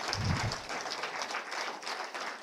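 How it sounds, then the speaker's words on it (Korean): An audience at a lecture in Hwasun applauds in dense, steady clapping that fills the room, sustained and fairly loud for a couple of seconds with no talk over it. "격려의 박수가 있어야 돼요."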